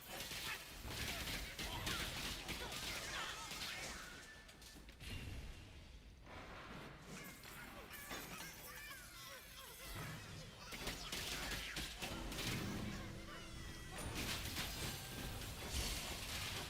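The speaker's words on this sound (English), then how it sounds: "My pet got wrecked by the explosions." Dense, continuous bursts of explosive spell impacts and crashes from combat in the action RPG Torchlight 3, loud and layered throughout with occasional whooshes, no talking.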